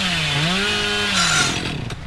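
The Hillbilly's chainsaw in Dead by Daylight revs loud and close, its buzzing pitch sliding up and down before breaking into a rough, rattling sputter as it winds down.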